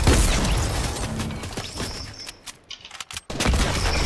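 A no-scope sniper trick shot in a first-person shooter game lands among a busy spread of game gunfire and mechanical clatter, then a sharp loud crack follows a brief lull near the end.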